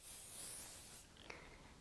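A short, faint hiss of hairspray from an aerosol can onto hair, fading out after about a second, followed by a quiet brief tap.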